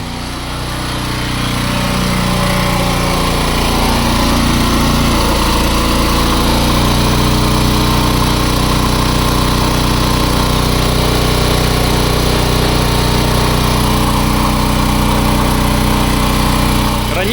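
A Champion 3.6 kW hybrid generator running on gas gives a loud, steady engine drone that ramps up over the first couple of seconds, then holds an even, continuous hum with no talk over it.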